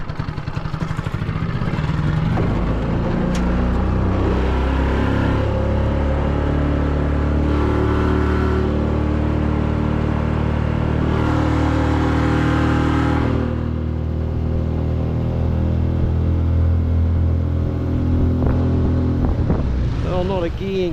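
A Mercury outboard motor on a fishing boat in the Maupa inlet, dying and being restarted: a loud, sustained engine drone that fluctuates and dips before picking up again, with wind across the microphone.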